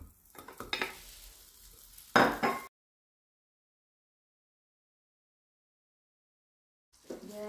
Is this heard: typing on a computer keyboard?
no